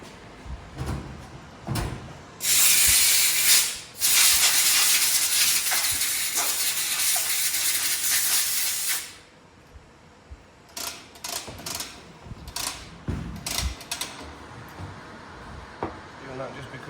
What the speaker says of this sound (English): I'll blow it out with the airline, because it's going to be full of dust